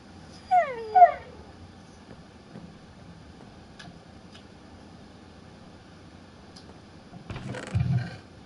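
Two quick dog yips ring out early in a Minecraft game, followed by a quiet stretch with faint ticks and a low rumble near the end.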